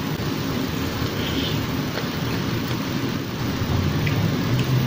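Steady heavy rain pours down during a thunderstorm, with a continuous dense hiss and low rumbling underneath, loud and unbroken throughout with no talking.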